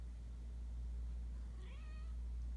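A single short cat meow, faint and somewhat distant, rising and falling over a steady low hum in an otherwise quiet indoor room.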